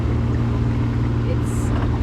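A sailboat motoring under engine power at about 5.7 knots in light wind on the Sea of Cortez, its steady low engine drone and hull noise running continuously and fairly loud throughout.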